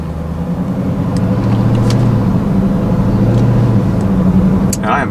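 Procharged Dodge Scat Pack car idling with a low, steady engine rumble close by, a continuous deep drone with small fluctuations and a brief higher click near the end.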